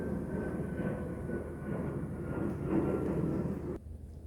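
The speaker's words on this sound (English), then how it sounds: "there are so many planes out here today" Airplane flying overhead outdoors, a distant, steady rumbling engine drone that swells slightly before cutting off abruptly near the end, faint and alone.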